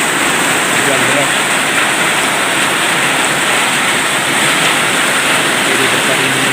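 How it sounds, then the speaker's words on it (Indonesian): Heavy rain pours steadily and loudly throughout, a dense continuous wash of noise during a journey home, with no break or voice audible over it. "hujan deras"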